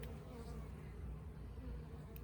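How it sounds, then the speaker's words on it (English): Honey bees at an open top bar hive hum in a low steady drone, close and continuous, with a faint tap or knock near the end and no talk. "we'll just tap the bees out a little bit."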